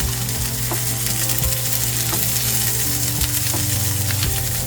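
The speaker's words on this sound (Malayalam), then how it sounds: "ഇനി ഇഞ്ചി നന്നായിട്ട് ഫ്രൈ ചെയ്തെടുക്കണം." Ginger frying in a pan over a medium flame for Kerala inji puli, an Onam sadya dish. A constant dense sizzle is joined by a low mechanical hum and regular soft clicks of stirring.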